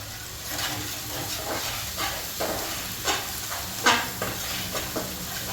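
A spoonful of garam masala roasting in a hot pan for chicken sukka, giving a steady close sizzle with intermittent scraping and stirring clicks, with no talk.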